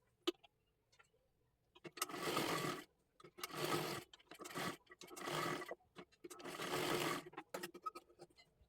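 A sewing machine runs double seams on a fancy dress made from a Kathpadar saree, in several short close bursts of whirring stitching with brief gaps between them, fairly quiet overall.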